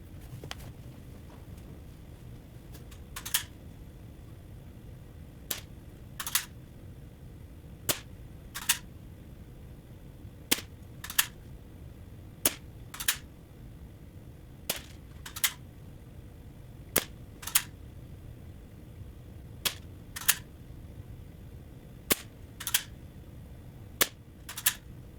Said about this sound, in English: we are going to take 10 shots from 21 feet with the Daisy Model 25.